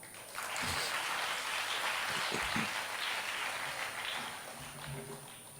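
An audience at a Tamil literature and music talk claps, a soft, fairly distant patter of applause lasting several seconds with a few low thumps.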